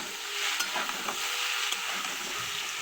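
Shredded cabbage sizzles and hisses in a hot pan while being stirred for chowmein, a steady close frying crackle with scraping stir strokes and soft utensil knocks, no talking.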